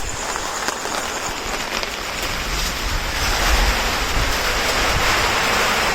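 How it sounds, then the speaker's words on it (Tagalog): Rain falls as a loud, steady, close wash of hiss that swells slightly midway, with no voices. "Umuulan na, guys."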